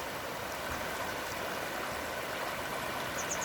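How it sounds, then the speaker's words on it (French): Water flows in a steady, soft, continuous rush, faint and even throughout, with no speech. "J'espère que le son de l'eau arrive jusqu'à vous"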